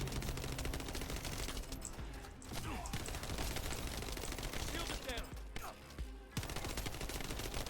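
Rapid automatic weapon fire from a Thunder Cage build in a looter-shooter game, dense bursts and crackling shots running almost continuously under game effects, with a few short gaps.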